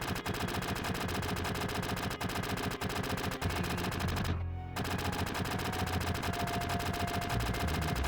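Rapid automatic gunfire from a Final Fantasy VII mod battle, a dense continuous stream of shots over game music, with a brief burst of noise partway through.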